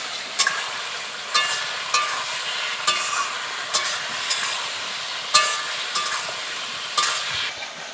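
Turmeric and chilli powder fry in oil in a pan for a katla fish curry, a continuous sizzle punctuated by regular scraping strokes of a spatula, close and fairly loud.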